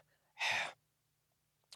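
A voice breathes out the Arabic letter ha, imitating panting: one breathy, airy exhale lasting about a third of a second, close and fairly quiet, followed by near silence and a faint short breath at the end.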